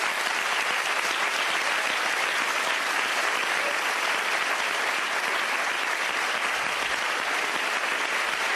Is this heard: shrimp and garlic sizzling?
no